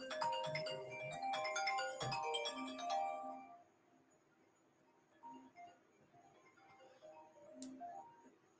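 A phone ringtone plays a loud, repeating electronic melody for about three seconds and then cuts off, leaving a quiet room with faint scattered background sounds.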